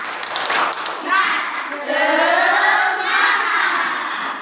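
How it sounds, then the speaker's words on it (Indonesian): Schoolchildren in a classroom chant a rhythmic clapping cheer with their teacher, their voices shouting together over clapping in patterned bursts. "Ayo kita tepuk semangat."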